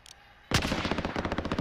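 After a brief quiet moment, a rapid burst of automatic gunfire rattles loudly and continuously, like a machine gun in Call of Duty: Modern Warfare.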